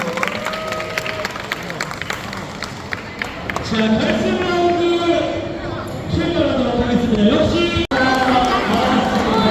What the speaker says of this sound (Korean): 다시 한번 두 친구에게 응원의 박수 부탁드리겠습니다